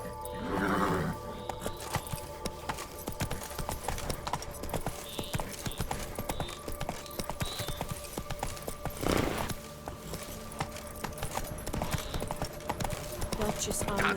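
Roach the horse in The Witcher 3 Blood and Wine walks with a steady clip-clop of hooves, with a brief whinny near the start and game voices talking over the footsteps.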